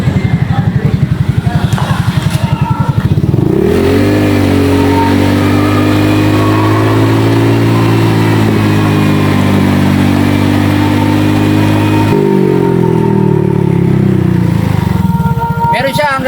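Stock Honda Click 150 motorcycle engine, idling then revved up and held at a steady high drone for several seconds before dropping back to idle, loud and close.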